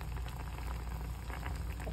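Guriri palm fruit jam made with water simmers at a steady boil in a pot, a dense continuous bubbling and popping, loud and close, with no voices.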